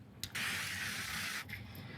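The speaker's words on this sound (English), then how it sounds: "You just barely spray the pan, and then you let the pieces drop in." A can of cooking spray hisses onto a skillet over medium heat in a kitchen, one soft spray of about a second after a brief tap, faint and alone.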